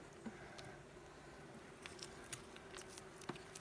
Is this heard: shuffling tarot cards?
no